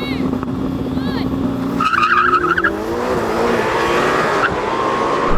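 A Lamborghini Temerario and a Ferrari SF90 launch in a drag race: engines roar up loudly with tires squealing, then rising gear-by-gear engine notes as the cars pull away.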